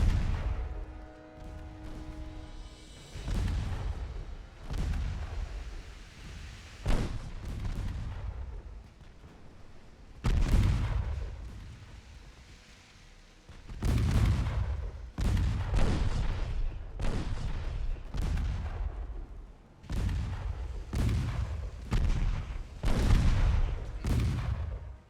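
Naval guns boom repeatedly in Ultimate Admiral Dreadnoughts, heavy irregular blasts with long rumbling decays, some salvos overlapping, loud and close throughout.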